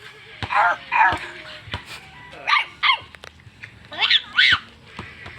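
A person imitates a dog barking, giving three pairs of short, high bark-like yelps separated by brief pauses, as an answer to what sound a dog makes.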